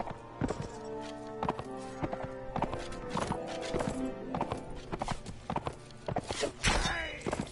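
Horses clip-clopping in the video game Mount & Blade, with irregular hoof strikes and thuds over a busy battle soundscape, a whinny rising near the end, and no clear talk.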